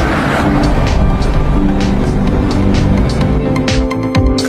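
A loud European car engine runs steadily and close by, with a deep continuous rumble and a few revving surges near the end.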